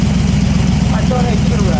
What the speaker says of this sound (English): Let it idle for a second.